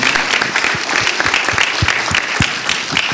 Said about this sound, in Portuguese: uma salva de palmas para esse time maravilhoso que ajudou a viabilizar